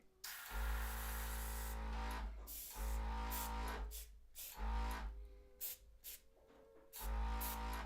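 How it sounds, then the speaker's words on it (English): Several bursts of airbrush spraying paint onto a Warhammer miniature, a soft pressurized hiss starting and stopping with short gaps between sprays, close by and with no talking. "I'm just gonna give this a little spray"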